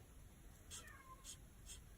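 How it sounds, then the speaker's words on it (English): A cat meows and caterwauls from another room while shut out, three short upset cries at a moderate distance over a quiet indoor background. "Y'all hear my cat?"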